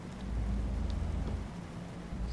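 Rain in Euro Truck Simulator 2, a dense steady patter over a deep low rumble from the truck, with scattered drop ticks and no talking.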